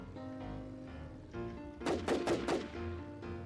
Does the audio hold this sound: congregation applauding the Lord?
no